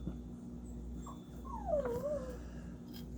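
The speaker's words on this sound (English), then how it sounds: "Sorry, I had to yell at my dog." A dog gives a faint, drawn-out whimper indoors at night, a thin rising and falling whine lasting about a second over quiet room noise.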